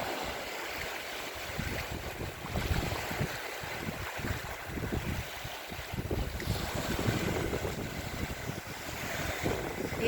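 Wind blows steadily across Pyoseon beach on Jeju Island, with gentle waves washing in beneath broadband gusts and microphone wind rumble, continuous and fairly close throughout.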